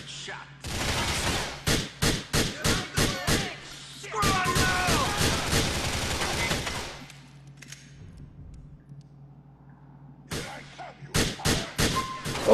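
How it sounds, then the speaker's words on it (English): Heavy gunfire in the video game Grand Theft Auto 4: rapid bursts of loud shots in clusters, a sustained stretch of continuous firing, a quiet gap, then more sharp shots close by. "Finally, we get some huge, heavy, hidden, explosive gunfire."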